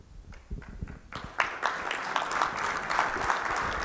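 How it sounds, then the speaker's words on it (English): An audience applauds a speaker named Peter at a talk, the clapping starting sparse and scattered and then building into a steady, moderately loud round. "The applause is for Peter, not for me."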